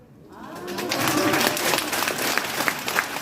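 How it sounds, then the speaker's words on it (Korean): Concert crowd in Dongducheen clapping along during a live cover of a trot song, a dense, sustained wash of hand claps with crowd noise that swells after a quiet start and holds steady. "한번 진짜로 박수 막 머리 위로 쳐도 되고"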